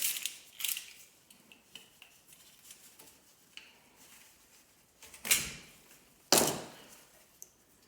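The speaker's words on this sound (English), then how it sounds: "So just hold here and we'll cut this off." Scissors snipping through exhaust header wrap, with a few quiet cuts early on, then two sharper, louder snips near the end against a quiet background with light handling noises.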